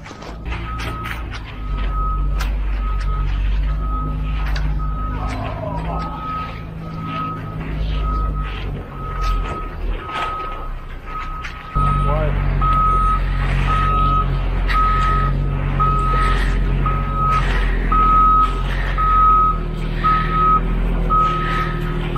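A concrete truck backs up at a backyard patio pour, its reversing alarm beeping in a steady rhythm over a low diesel rumble that grows louder midway.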